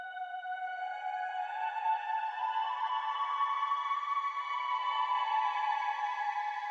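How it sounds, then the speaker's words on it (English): Guitar run through a Guitar Rig preset rings as a smooth, airy vocal-like pad, sustained ambient tones swelling gently and holding steady, alone and fairly quiet. "It made the guitar sound like a vocal pad"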